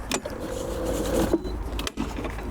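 A cordless battery lawn mower whirs as it restarts and cuts grass, its electric motor giving a steady mid-pitched hum with a brief dip and surge partway through, heard close up.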